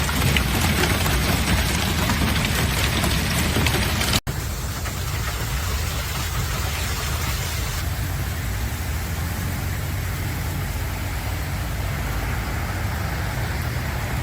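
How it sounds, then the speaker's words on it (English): Violent hailstorm in the UK with large hail, heard as a dense continuous hiss and patter of stones striking surfaces, steady and fairly loud with a brief cut partway through and no talk. "described the hailstorm as astonishing, resembling someone knocking on their window"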